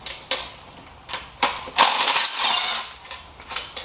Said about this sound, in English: You can probably hear the brittle cracking of the wires